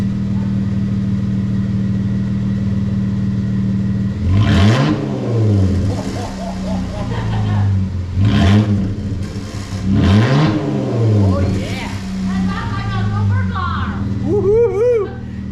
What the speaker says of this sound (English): She's gonna get in there and give it a few power revs.